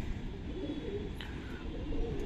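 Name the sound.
Madrasi pigeons cooing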